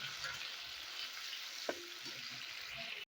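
Potatoes fry in a hot wok with a steady, close sizzle, broken once by a sharp utensil knock and a short stir before the sound cuts off abruptly.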